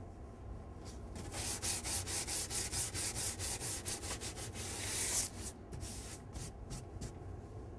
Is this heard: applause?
no